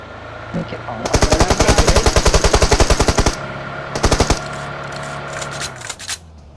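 Loud, rapid automatic gunfire from PUBG Mobile rattles in a long burst, then a shorter burst follows, over a noisy background with voices.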